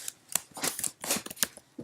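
A dog rummaging in the background of an indoor room, producing scattered rustling, scraping and clattering noises in irregular bursts at moderate level, with no talking.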